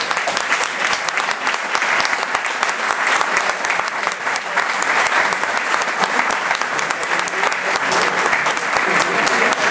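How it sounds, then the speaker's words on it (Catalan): Dense, steady audience applause fills a hall at a book presentation for a novel, loud and continuous throughout with no talk over it. "es mereix que li fem un aplaudiment final"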